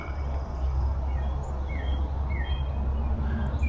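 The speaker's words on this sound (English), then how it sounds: "Got a woodpecker or two." Birds call outdoors by the water on a spring day, their thin whistled chirps scattered and fairly distant over a low rumbling background, with no clear woodpecker drumming.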